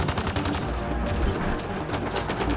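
Gunfire in Mass Effect: Andromeda rattles in fast, continuous automatic bursts with heavy low thumps, loud and close, with a faint voice briefly underneath.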